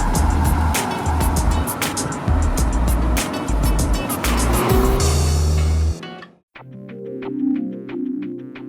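A Mini Cooper S Clubman engine revs and pulls through gear changes while driving, a loud raspy note rising and falling with shifts, then cutting off briefly before resuming more gently.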